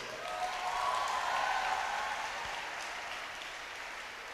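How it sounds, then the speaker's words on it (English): Audience applause for dance performers at a campus dance event, a steady wash of clapping holding at moderate level throughout, with a faint whistle-like tone early on. "Let us give a big round of applause to all the performers."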